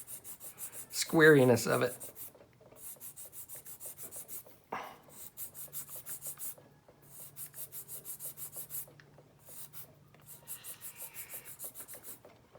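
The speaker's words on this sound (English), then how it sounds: "I'm going to sand this down and almost square it off" A plastic part for a 1/32 Pacific Coast Models Mk. XIVc kit is sanded down in quick, rhythmic rasping strokes. The bursts are close and fairly soft, separated by short pauses, with a brief spoken comment.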